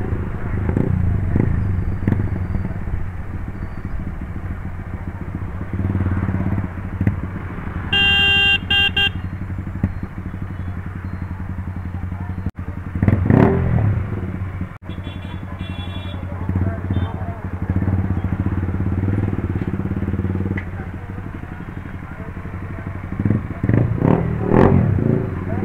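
A Yamaha MT15 motorcycle fitted with a new aftermarket exhaust rides through a busy market, its engine burbling and revving repeatedly amid street clatter and occasional horns, with someone talking over it throughout.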